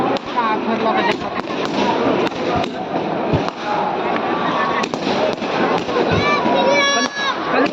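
Loud firecrackers burst rapidly one after another at a Dussehra Ravan-burning celebration in Janakpur, a dense crackling barrage with voices shouting underneath.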